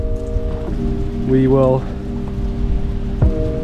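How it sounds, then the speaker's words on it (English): Steady rain falls outdoors on a backyard pit-smoker build, a continuous patter with a voice speaking briefly over it. "So, rain has stopped play."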